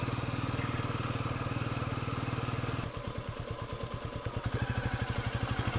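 A motorcycle engine runs steadily and close as it climbs the winding road up to Chandil Dam in Jharkhand, then shifts to a slower, pulsing, uneven throb partway through, with no talk over it.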